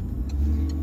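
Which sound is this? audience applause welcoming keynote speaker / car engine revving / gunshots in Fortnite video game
car engine revving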